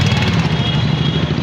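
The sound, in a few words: vehicle engine as it starts moving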